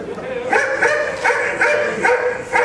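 A dog barks and yips loudly in a quick, regular series of about six bursts during a live stage event.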